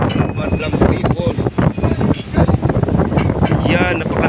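Offshore wind buffeting a microphone on a ship deck near Stavanger, Norway, a steady gusty roar running throughout under a man's speech.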